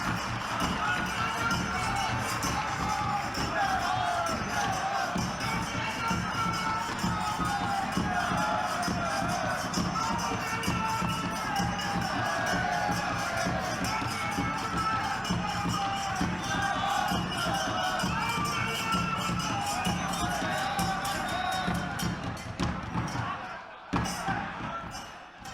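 A large crowd claps continuously at an outdoor political rally in Hisar, a dense, sustained patter of applause that holds steady before fading near the end.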